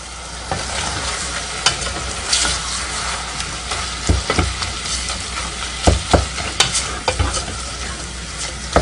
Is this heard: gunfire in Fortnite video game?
no